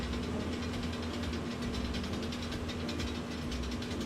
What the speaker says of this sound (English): you can hear the wind is kind of blowing the engine around there. So it's just going click, click, click, click, click like that